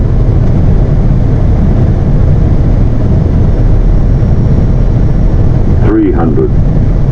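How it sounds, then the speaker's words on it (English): Airbus A320 cockpit on final approach into Zurich, a steady loud rushing drone of engine and airflow throughout, with a brief electronic callout voice near the end. "now enjoy the last bit of the approach and the landing without me talking"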